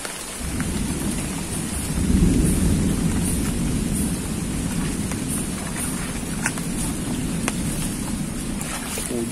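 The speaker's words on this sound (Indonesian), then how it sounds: "Atas pun dah berdentum-dentum." Heavy rain pours steadily over a forest while deep thunder rumbles, swelling loudest about two seconds in and continuing as a low roll beneath the constant downpour; no one speaks.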